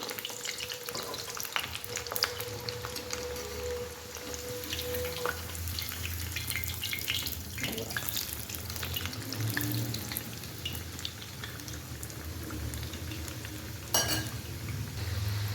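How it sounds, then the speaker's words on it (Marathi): Medu vada frying in oil over medium heat, a steady close sizzle with soft bubbling running throughout, a few light clinks and stirring sounds, no talking. "तेलामध्ये सोडल्यानंतर मध्यम आचेवरती हे वडे आपण तळून घेतो"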